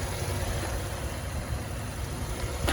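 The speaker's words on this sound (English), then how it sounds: "This does have the V6 engine." A 2019 Chevrolet Traverse's V6 engine idles at a steady, even rumble, close by and continuous, with no speech and no revving.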